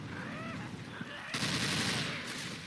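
A shotgun blast in the video game Left 4 Dead 2, on The Sacrifice campaign, lands as a single sharp burst about halfway through, followed by a noisy sustained wash of game sound.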